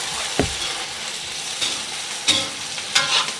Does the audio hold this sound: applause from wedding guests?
no